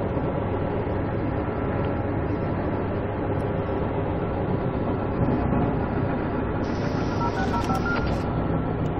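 Locomotive in the Railworks train simulator game rumbling along steadily while braking, a loud continuous low roar with a brighter hiss rising near the end, no talking.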